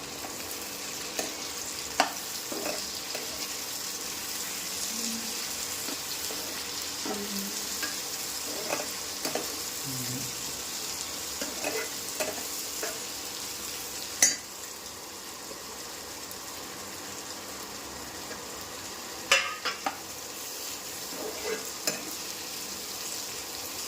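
Potatoes and onions frying in oil in a pan while being stirred with a spoon, a soft continuous sizzle with occasional light scrapes and clicks of the spoon against the pan, fairly quiet and without talk.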